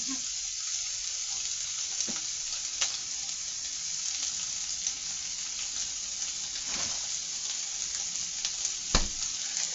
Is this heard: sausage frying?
yes